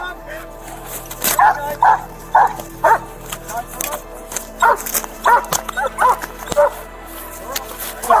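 A police dog barks repeatedly during a tense arrest, loud close bursts of barking in uneven volleys, some with yelping, mixed with shouting officers.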